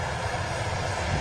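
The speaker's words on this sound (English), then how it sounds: "Ryanair 737-800 taxiing past there" A Ryanair Boeing 737-800 taxiing at Manchester Airport gives a steady, broad jet engine rumble and whine, continuous and moderately loud, with no talk over it.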